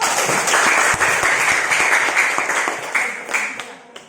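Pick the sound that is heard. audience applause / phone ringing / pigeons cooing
audience applause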